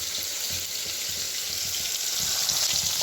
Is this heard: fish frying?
yes